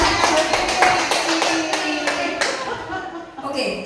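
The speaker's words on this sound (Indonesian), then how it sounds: "Oke, tepuk tangan buat Bu Rini." A classroom group claps in a brief burst of applause, the sharp hand claps fading over a few seconds with faint voices underneath.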